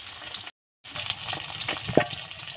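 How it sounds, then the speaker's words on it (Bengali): Small rohu fingerlings fry in hot oil with a steady close sizzle and crackle, briefly cut to silence partway, then resume with a sharper pop near the end. "তো মাছগুলো আমি একে একে ভেজে নেব"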